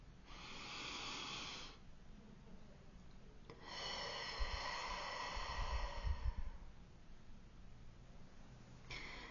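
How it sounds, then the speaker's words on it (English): Slow, deep breaths close to the microphone, two long airy inhales or exhales separated by a pause, with a low rumbling hiss on the second and no talking. "Take a deep breath with me."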